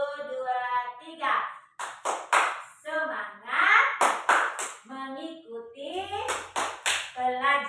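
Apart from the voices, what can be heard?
group clapping hands in a classroom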